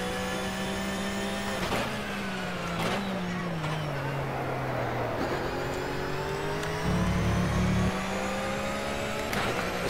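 A race car engine roars in the rFactor racing game at Bathurst, a flat-six endurance car whose pitch climbs and drops through repeated gear shifts and revs, with brief dips as it brakes for corners.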